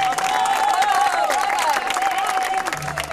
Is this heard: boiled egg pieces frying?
no